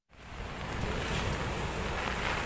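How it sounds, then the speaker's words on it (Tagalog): Large waves driven ashore by a typhoon on the Sorsogon coast roar in a continuous, loud wash of surf mixed with heavy wind buffeting. "Malalaking alon ang dala ng bagyong Julina sa pampang ng Sorsogon."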